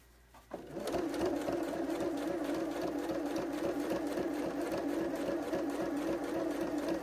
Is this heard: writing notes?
no